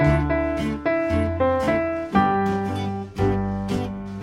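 A piano plays a bright, bouncy theme intro with chords in a steady rhythm along with a backing track, close and clear, with no talking.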